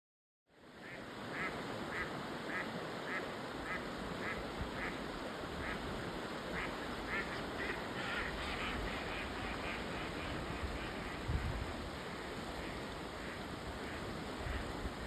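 Ducks quack in a rapid repeating series beneath a steady wash of broadband outdoor noise like rushing water or wind, faint and somewhat distant, on a trail between Silver City and Gila Hot Springs, New Mexico.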